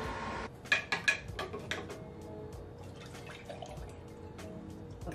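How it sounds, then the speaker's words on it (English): Leftover sugarcane juice is poured into a small jar: a few quick splashing drips at first, then a steady liquid trickle with faint glassy clinks, close up and without talk. "I'm going to pour whatever I got left of sugarcane juice."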